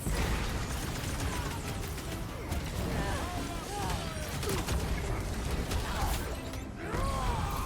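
Gunfire and battle effects fill a Guardians of the Galaxy video game fight, dense and continuous, with rapid shots, mechanical clatter and swooping tones layered at steady loudness.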